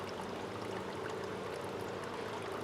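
Water from a biochar DIY bog filter trickling and flowing back into a garden pond, a steady, faint streaming splash heard alone without talk.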